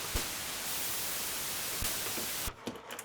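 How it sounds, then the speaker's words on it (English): Hissing white noise from the separate noise source of a Korg MS-20 Mini synthesizer, a steady loud broadband wash with a couple of faint clicks, cutting off abruptly near the end to quieter handling thumps. "you have also a separate noise source that you can patch pink noise and white noise."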